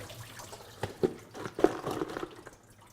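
Watery cave sediment residue poured into a sieve, a soft irregular splashing and trickling with a few brief louder splats, fairly close and quiet.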